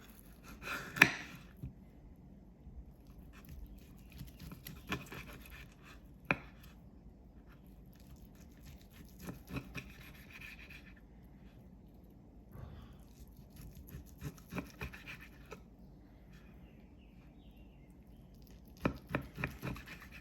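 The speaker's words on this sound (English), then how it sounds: "I'm just going to cut them about a 1/2 inch thick, maybe." A knife slices cooked pork tenderloin into half-inch rounds, making faint scattered cuts and soft taps against a board, spaced irregularly with quiet gaps between them.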